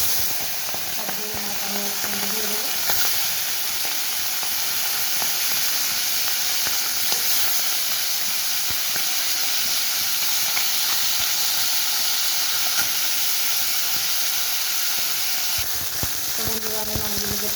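Fish slipped into hot mustard oil in a wok sizzle and hiss continuously at a steady, loud level, a dense crackling fry with occasional faint clinks and a brief stir-like clatter near the start and end.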